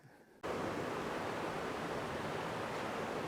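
Flowing creek water starts abruptly after a brief quiet moment, then a loud, steady rushing wash continues without a break.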